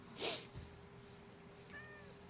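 A Minecraft cat gives a short, faint meow near the start, then a softer thin mew follows after a quiet pause, over low background hum.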